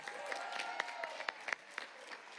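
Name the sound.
applause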